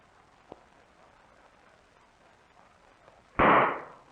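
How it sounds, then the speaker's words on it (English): A flammable gas mixture ignited by static from falling water explodes inside a test tube, a single sharp whoomp after a faint click in a quiet room, decaying over about half a second. "This small amount of falling water is all that is needed to generate enough static to explode a flammable mixture."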